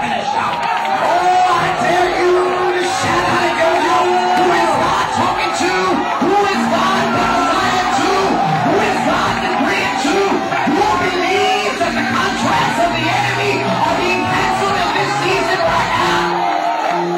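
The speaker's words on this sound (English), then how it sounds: "So somebody give the Lord a clap and a shout." Church congregation clapping and shouting praise, a dense crowd of whoops and yells under a steady din, with a voice calling out over it.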